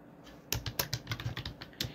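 Keys clack on a computer keyboard as a blog post is written, a quick irregular run of crisp taps after a short silence, close and fairly quiet with no voices.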